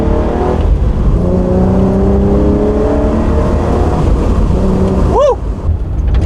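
A loud, modified naturally aspirated 3.8 V6 engine in a BK1 Hyundai Genesis Coupe revs and holds high, its pitch rising through the gears, then briefly drops and climbs again with a sharp aftermarket exhaust note.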